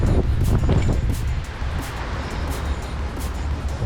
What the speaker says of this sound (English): Oh yeah, way more windy than last time.